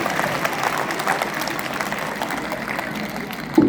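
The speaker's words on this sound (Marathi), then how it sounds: "सर्वांनी एकदा दोन्ही हात वरती करून टाळ्या वाजवा मित्रांनो." Steady applause from a seated audience of children and adults at a school library prize-giving ceremony, many hands clapping together continuously and fairly loud throughout, with no talk over it.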